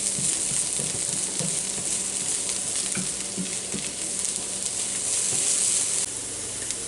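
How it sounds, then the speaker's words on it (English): Chopped onion sautéing in a little butter in a pan gives a steady, close sizzle with soft bumps of stirring throughout, and no one speaks. "Chopped up my onion and just sauteing them."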